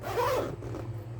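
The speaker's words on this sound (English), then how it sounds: "Zippers are holding up great. They work nice." A Tomtoc EDC sling bag's zipper gives one quiet, brief rasp as it is pulled along, close by and with no talk over it.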